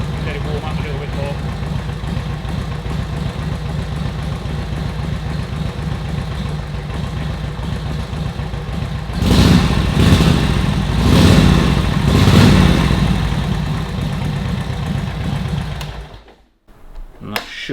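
A 1943 Harley Davidson WLA motorcycle engine idles steadily after a kick start, a loud continuous rhythmic chug with a brief rise in revs midway before it cuts out near the end.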